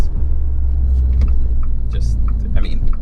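The small engine of a Fiat 500c Abarth hot hatch gives a loud, low rumble close by, holding steady for a few seconds under a voice as he talks inside the car.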